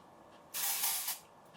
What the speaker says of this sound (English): I'll just spray this in the roots of my hair